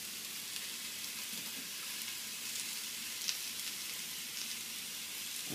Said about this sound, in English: These are just chicken tenderloins.